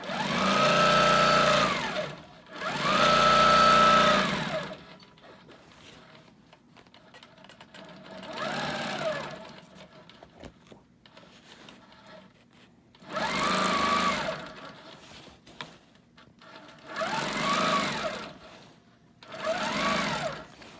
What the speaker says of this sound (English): I'm just going to go ahead and quilt because I have to think.